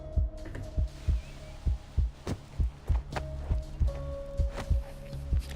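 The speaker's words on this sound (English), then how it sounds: "slowing her heartbeat to limit her bleeding and maintain focus" A slowed heartbeat sound effect from the video game Reverse: 1999 throbs in a steady, low, deep pulse roughly twice a second, over a faint hum and soft tones, with no talk.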